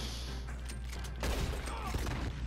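A burst of rapid gunfire in Red Dead Redemption 2 Online rattles out over a steady background hum, several quick shots in a row.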